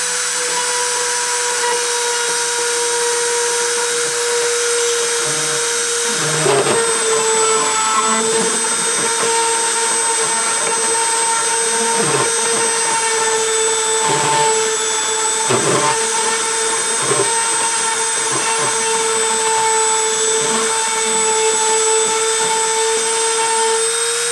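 A machine spindle spinning at 30,000 RPM during a friction deposition run, giving a loud, steady high-pitched whine with strong sustained tones, punctuated by a few brief knocks and scrapes of contact, with no talk over it.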